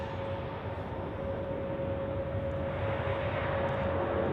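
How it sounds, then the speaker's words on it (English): Several aircraft taxi toward runway 28 at Zurich Airport on a crosswind day, a steady distant engine whine and broad roar holding at an even level throughout, with no voices. "we have multiple aircraft taxiing to runway 28 as we speak for departure"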